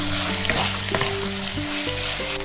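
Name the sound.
stir-frying beef brisket in a wok with soy sauce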